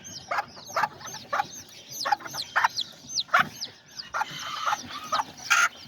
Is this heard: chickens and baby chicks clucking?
yes